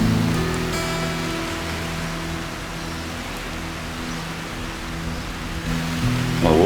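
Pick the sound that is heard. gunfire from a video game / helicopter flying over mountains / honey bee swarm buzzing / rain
rain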